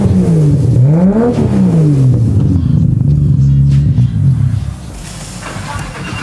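A freshly tuned car engine revs hard and loud right up close, its pitch sweeping up and down in strong surges before settling to a steady idle-like drone near the end.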